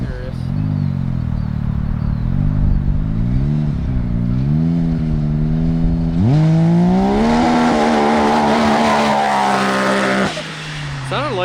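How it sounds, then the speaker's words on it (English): A big-turbo X3 side-by-side rated at 360 hp accelerates hard. The engine note climbs steadily, jumps into a higher, louder surge and then cuts back near the rev limiter, with voices talking over it. "Sounded like a little bit of rev limiter there."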